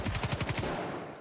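Automatic gunfire in the PUBG video game, a rapid burst of about eight close, heavy shots in quick succession that cuts off abruptly.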